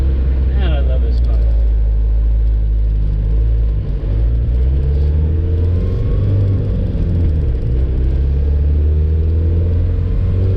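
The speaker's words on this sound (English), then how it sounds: "it feels good to drive the Samurai" A Suzuki Samurai being driven gives a steady low engine rumble heard from the cabin, with small shifts in pitch throughout and a voice speaking faintly over it.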